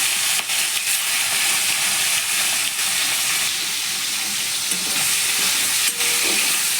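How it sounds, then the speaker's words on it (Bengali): Prawns coated in turmeric and salt dropped into smoking hot oil, giving a loud, continuous close-up sizzle and hiss that holds steady throughout. "চিংড়ি মাছগুলোকে একটু ভেজে নেব"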